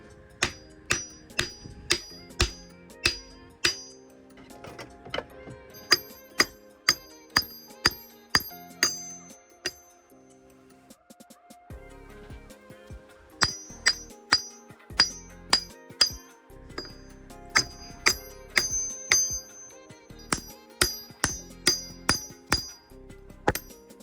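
Wooden block struck repeatedly with a hammer to drive the stub axles out of a Nissan 350Z differential, a sharp metallic knock with clinking ring, in two long bursts of steady blows separated by a short pause, close and loud.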